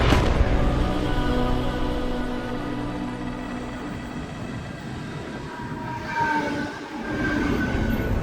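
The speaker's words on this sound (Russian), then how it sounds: "В игре Дженсен приезжает в Прагу на электричке" An electric commuter train in the Deus Ex game arrives at Prague, with a steady loud rumble of rolling wheels and a rising whine near the end, without any voices.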